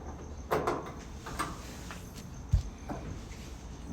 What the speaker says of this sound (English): we're going to slide those hinges right in the slots right there